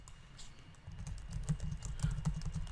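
Fingers type code on a computer keyboard in a quick, uneven run of soft, close clicks and key taps, the patter growing a little denser toward the end.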